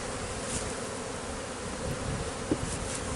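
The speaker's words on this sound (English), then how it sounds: "There are some live bees, so I'm going to throw them bees right there." Live bees from a removed beehive buzz in a dense, steady swarm drone close by, continuous and fairly loud throughout with no voices.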